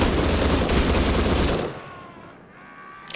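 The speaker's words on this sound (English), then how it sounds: "I just sprayed him with the goddamn muzzle boost or whatever" A gun fitted with a muzzle boost sprays fire in Rust, a rapid loud burst of automatic shots for about a second and a half before cutting off into quiet ringing ambience.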